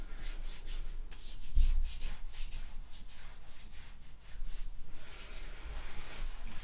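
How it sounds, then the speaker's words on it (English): Hands briskly rubbing up and down bare arms during a morning self-massage practice, a steady soft friction swish that continues close and quiet with no talking. "Rubbing your hands and arms."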